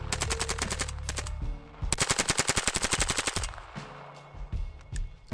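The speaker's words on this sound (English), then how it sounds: "There was also an especially substantial rise to the rate of fire once the magazine was about halfway out" A Bizon submachine gun firing full auto in two long bursts, a fast even stream of loud close shots, the second burst steady and rhythmic, followed by a quieter tail with a few scattered clanks.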